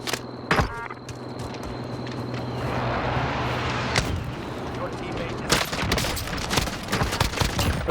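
Shotgun blasts ring out in a zombie game mode: a sharp shot early, then a steady roar of game noise, then a rapid cluster of further shots near the end, with someone talking over the action.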